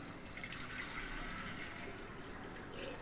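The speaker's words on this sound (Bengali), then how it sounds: "আবার আমি ফ্রাই প্যান থেকে জগের মধ্যে ঢেলে দিচ্ছি।" Milk being poured from a frying pan into a jug while making sweet yogurt, a soft, steady liquid trickle and splash, fairly faint and continuous throughout.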